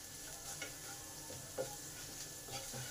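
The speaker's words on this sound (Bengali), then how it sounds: "এই মশলাগুলো তেলেতে ভালো করে কষে নেব।" Panch phoron spices fry in hot oil in a pan for kochu shak ghonto, a steady close sizzle broken by soft stirring scrapes, with no voices.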